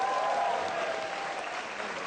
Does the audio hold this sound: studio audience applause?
yes